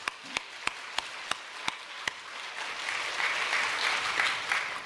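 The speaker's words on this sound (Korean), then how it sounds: "영광의 박수 하나님 앞에" A church congregation at a Korean worship service claps a few times in unison, then breaks into sustained, moderately distant applause.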